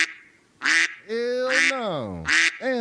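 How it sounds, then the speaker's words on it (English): Loud, close duck quacks repeat in a rapid, honking series, some drawn out and bending in pitch, with no other sound behind them. "All I hear is a bunch of ducks, man."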